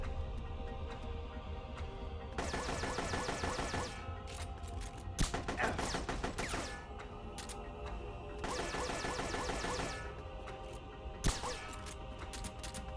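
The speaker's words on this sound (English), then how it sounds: "I think he does 2 bursts of fire" Gunfire bursts in Metal Gear Solid: Portable Ops arrive as several sustained automatic volleys of rapid rattling shots, separated by gaps, with sharper single cracks between them over steady game ambience.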